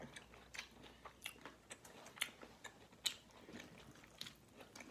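Fried galunggong fish eaten during a mukbang, heard as quiet, close chewing and biting with soft crunches and small clicks in a loose, irregular rhythm.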